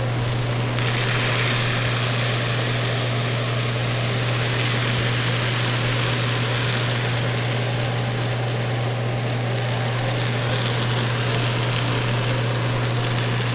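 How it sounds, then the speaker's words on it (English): A steady, loud sizzling hiss of syrup poured over hot baklava runs continuously without a break over a low constant hum, with no voices. "Do you hear that sizzle?"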